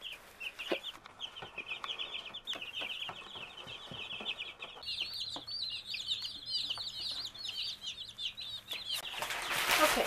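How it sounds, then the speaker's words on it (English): Cornish Cross broiler chicks in a brooder box give a steady, dense chorus of high peeping and cheeping, close and fairly loud, continuing throughout with some rustling and handling noises and no talking. "And then we'll separate these chicks."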